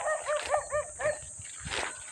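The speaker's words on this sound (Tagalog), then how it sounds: "may aso dito." A dog barks several times in quick, hoarse bursts, fairly near, over faint outdoor background noise with no talk.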